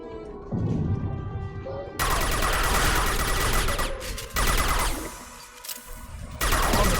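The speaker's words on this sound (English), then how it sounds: "I like the submachine gun so much better than the machine pistol." Submachine gun fire in Mass Effect Legendary Edition, long loud sustained bursts broken by brief pauses, mixed with game music and effects in the background.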